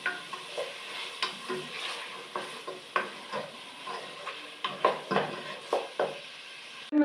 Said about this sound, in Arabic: نحركهم مليح مع بعضهم